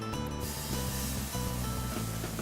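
Scallops hitting a pan of smoking-hot olive oil, a loud continuous sizzle and spatter right up close with no talk.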